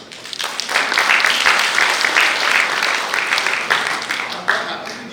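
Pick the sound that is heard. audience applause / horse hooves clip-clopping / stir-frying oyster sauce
audience applause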